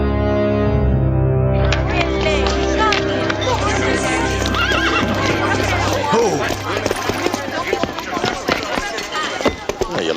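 Horse neighing loudly in an audio drama set in the world of Sinbad's adventures, followed by hooves clip-clopping and scuffling, with a dense music and effects bed and voices speaking over it.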